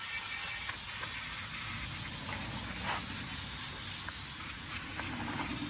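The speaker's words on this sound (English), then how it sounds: "now we're gonna just hit it with some brake cleaner." Brake cleaner sprays in a steady, loud hiss over rusty brake parts on a 2015-2023 Dodge Charger, with the spray running unbroken from start to finish and a few faint clicks underneath.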